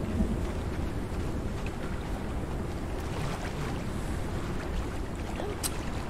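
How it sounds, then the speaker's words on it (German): A storm in the video game Conan Exiles makes a steady, broad roar of wind and rain, constant and enveloping, with faint rumbles and no talking. "Und da kommt schon wieder so ein ekelhafter Sturm."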